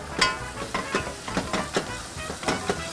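Shiitake mushrooms and chopped asparagus sizzle in a pan, a soft close hiss broken by a rhythmic series of short crackling bursts and stirring scrapes, fairly quiet and with no voices.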